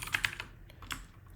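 Quick keystrokes on a computer keyboard while code is written, a short burst of several crisp, close clicks followed by a pause and a few more taps, quiet and without speech.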